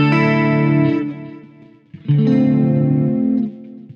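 Electric guitar chords from a Boss GT-1 with a Fender Deluxe preset and hall reverb sustain with a lingering, spacious reverb tail, two long phrases separated by a brief fade and a quick pluck.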